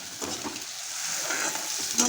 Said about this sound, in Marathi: हे पहा, त्याला परतून घेऊ व्यवस्थित.